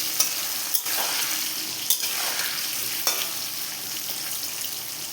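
Boiled potatoes frying in a pan, a steady close sizzle with a few sharp knocks of a spatula stirring, and no one speaking.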